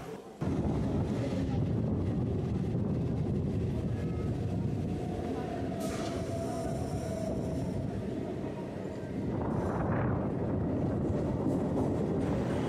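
Sealdah–Naihati local train rolling along, a loud continuous rumble of wheels and carriage noise heard from inside, with a brief squeal partway through and a rising rush near the end.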